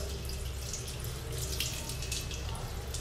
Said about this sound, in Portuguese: Agora vamos abrir a água de novo e lavar.